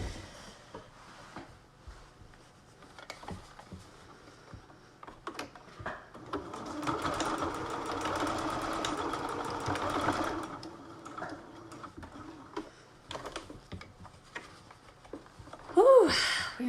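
Sewing machine stitching back and forth along the channel of a fabric face mask cover, a quiet mechanical chatter that swells into a steady run for a few seconds between short bursts and handling clicks.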